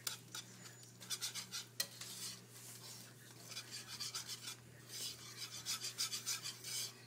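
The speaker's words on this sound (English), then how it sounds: "we're going to mix this in with the white sauce" A utensil scrapes and rubs through thick white sauce in a bowl while an ingredient is mixed in, giving rhythmic rasping strokes in short bursts, close and fairly quiet.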